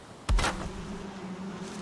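Bees buzz around a newly placed beehive in the Valheim game world, a steady low hum that runs on after a brief thump as the hive is set down.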